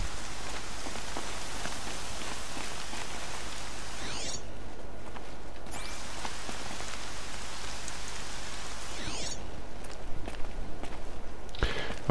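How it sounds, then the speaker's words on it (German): Heavy rain pours steadily in the video game Horizon Zero Dawn, a loud continuous hiss of drops on the ground with footsteps crunching through it, no talking. "Der Regen ist viel zu laut, als dass man etwas hören könnte."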